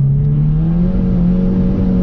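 A 380 hp stage 2 Volkswagen Polo WRC accelerates hard, its engine note a loud, close, continuous drone that climbs steadily in pitch.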